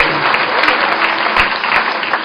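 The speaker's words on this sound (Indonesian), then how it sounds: "Berikan tepuk tangan yang meriah bagi Allah." Church congregation at an anniversary worship service breaks into loud, sustained applause, a dense roar of clapping with a few voices mixed in.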